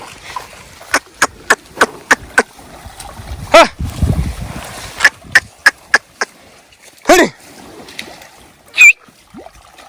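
Animals lie down and bathe in shallow water on a warm day near a forest, with a few irregular splashes and sharp clicks over quiet outdoor background and faint voices.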